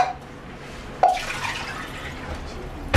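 Water poured from a container into a guava cake batter in a home kitchen, a steady splashing trickle that starts abruptly partway through and runs on, close and moderately loud with no talking.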